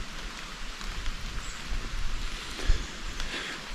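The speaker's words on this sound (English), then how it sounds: "It's been raining solid." Steady rain falls across a rural Oklahoma hunting area, a constant soft patter with faint rustling and no voices, holding an even level throughout.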